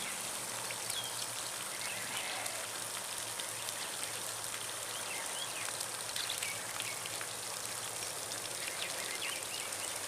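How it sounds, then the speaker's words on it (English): Water trickles and patters steadily from small holes drilled along a homemade drip watering pipe onto garden plants, a continuous fine splashing like light rain with no talk. "The water can run right out on the plant."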